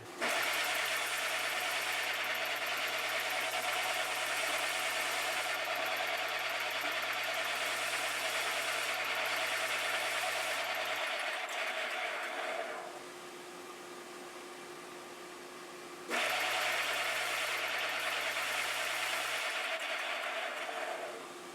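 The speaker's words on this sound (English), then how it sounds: "we're back over to the radius sander. I just put a fresh 60 grit disc, so it should take care of this in a hurry" A radius sander fitted with a fresh 60 grit disc runs on a guitar body: a loud steady motor whine with constant abrasive hiss, briefly dropping to a quieter spin-down before surging back to full grinding.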